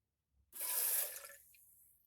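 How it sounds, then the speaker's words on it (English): A 2016 Hyundai Santa Fe Sport windshield washer pump, powered on the bench, starts abruptly with a loud hissing spray of water that holds for under a second, then tapers to a quieter steady stream. "I'm going to connect the electrical power to the pump."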